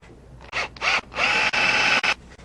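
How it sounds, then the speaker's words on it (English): A power drill drives screws into a flexible vinyl boat rub rail, several short close whirring bursts starting and stopping, the longest near the middle, with brief pauses between them. "I'm going to put the rub rail up to it. And we'll set the screws in."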